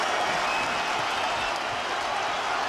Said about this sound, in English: Well, the crowd stand and applaud,